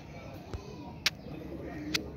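Pigeons coo softly in a pigeon keeper's loft, a low murmuring rumble running throughout with a few sharp clicks or taps breaking through, fairly quiet and close, with no talking.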